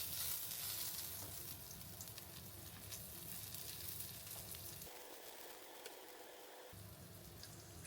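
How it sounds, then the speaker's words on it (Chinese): Chopped garlic sizzling and frying in hot olive oil in a pan, a steady loud crackling hiss with a brief quieter dip before it resumes. "等油热了，放入切好的大蒜"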